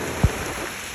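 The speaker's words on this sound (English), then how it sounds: "And that's some serious rain." Heavy rain outside a polytunnel makes a dense, steady hiss with a single brief low thump, and no one speaks.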